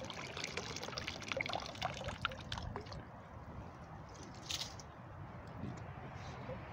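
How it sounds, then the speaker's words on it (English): Mud bubbles up through shallow water at a salamander and newt search spot, soft trickles and wet squishing pops close by, strongest at the start and then settling. "Must be the mud making them bubbles."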